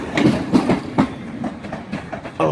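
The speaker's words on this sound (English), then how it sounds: "we have the Virgin Pendolino leaving in a second" Virgin Pendolino train at Crewe station on the West Coast Main Line, heard as a loud rhythmic clickety-clack of wheels over rail joints with a steady rumble as the train runs close by.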